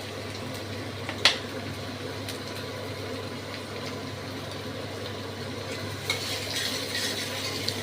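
Spices frying in ghee in a pan for cream malai paneer kofta, a continuous soft sizzle with occasional clinks of a spatula stirring against the pan, close and steady throughout.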